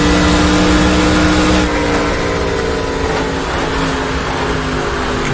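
A NASCAR stock car in the NR2003 racing game roars at close range as its tires start to break traction, with the engine note dipping and wavering in a loose, sliding drone.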